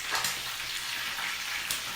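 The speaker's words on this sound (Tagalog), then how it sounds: "Piniritong isda." Dried fish frying in a pan, a steady close sizzle and crackle running without a break, with brief stir-like bumps and no voices.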